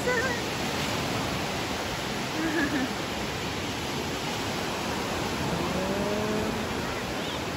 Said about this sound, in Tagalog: So this part na po ito ng Pacific Ocean